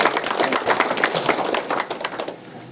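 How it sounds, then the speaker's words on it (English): Audience applause at an agricultural research programme event in Dimapur, dense scattered clapping that fills the room steadily for a few seconds, then thins and fades toward the end. "it deserves a round of big applause"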